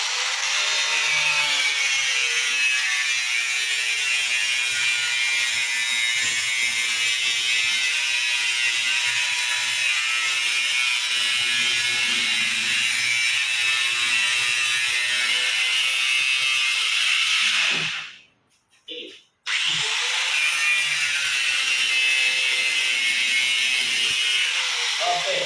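A power tool saws steadily into the metal body of a refrigerator, a continuous high grinding whine that runs almost unbroken and cuts out briefly near the end before resuming.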